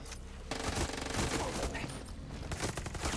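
Rapid automatic gunfire rattles close and loud in the Far Cry 6 Vaas DLC, in dense bursts with a short break, and a voice is briefly heard under the shots.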